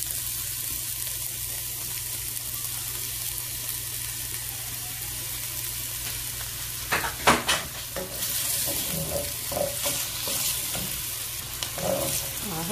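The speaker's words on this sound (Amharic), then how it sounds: "ይኸው ሽንኩርታችን በዚህ መልኩ እየበሰለ ነው" Onions frying in a pan for Ethiopian fasting firfir, a steady soft sizzle with a few sharp clanks of stirring and louder bursts of sizzling later on.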